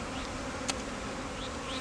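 Honeybees buzzing around hives, a steady faint hum of many insects with a closer bee briefly zipping past, heard outdoors with no voices.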